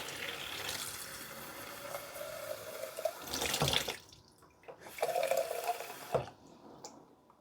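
Water from a tap runs into a mason jar used for rooting rosemary cuttings, a steady rushing stream that stops and starts in two bursts, close and fairly loud with no talking.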